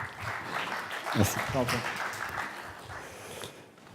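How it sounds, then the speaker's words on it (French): An audience at a tech conference in Paris claps in a dense, even patter that slowly fades, with a brief spoken word over it. "Vous pouvez l'applaudir."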